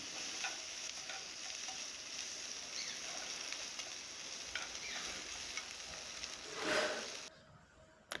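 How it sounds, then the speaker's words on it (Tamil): Ginger garlic paste sizzles and fries in a hot pan, a steady crackling hiss with occasional stirring scrapes, ending abruptly near the close. "சிறிது இஞ்சி பூண்டு விழுது 1/4 ஸ்பூன் அளவு சேர்த்து பச்சை வாசனை போகும் வரை நன்றாக வதக்க வேண்டும்"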